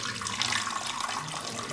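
Water pours from a tap into the tank of a Kismile espresso machine, a continuous splashing, gurgling stream heard close up with no talk.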